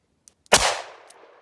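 One sharp, loud gunshot from a .38 Special +P Cor-Bon 125 gr round fired during a ballistic gel and chronograph test, a sudden crack followed by a short, fading echo.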